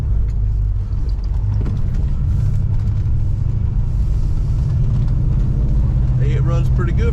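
A 1968 Dodge Charger engine idles steadily as it warms up on 87 octane fuel, a continuous low rumble that holds close and loud for the whole stretch.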